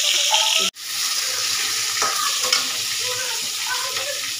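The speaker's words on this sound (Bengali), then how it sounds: "এরকম লাল লাল করে আমি ঝিঙেগুলো ভেজে নিয়েছি" Ridge gourd slices fry in hot oil with a loud, steady sizzle, close by. A brief break comes early, then the crackling goes on as the pieces are stirred.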